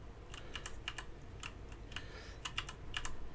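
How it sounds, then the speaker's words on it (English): A cat steps on a computer keyboard, pressing keys in a quick scattered run of light clicks, close and fairly quiet, with no talk. "My cat just leaned on my keyboard."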